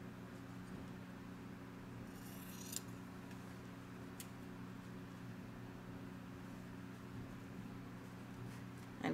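Scissors cut fabric pieces for a quilt table topper, with a few short crisp snips over a steady low hum of room noise.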